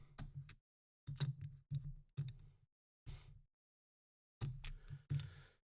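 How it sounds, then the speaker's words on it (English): Poker chips are shuffled by hand near the microphone, making quick bursts of clicking clatter in several separate groups with short silences between them. "My poker chips in the background. I like to shuffle them."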